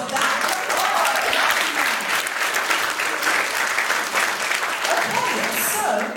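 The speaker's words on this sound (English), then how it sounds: "we can applaud that" A panel discussion audience breaks into loud, sustained applause, a thick continuous roar of clapping with no talk over it.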